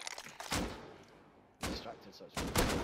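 Python revolver shots in the survival game Rust, three sharp reports spaced about a second apart, punching out over a dim background hum, with no talk over them.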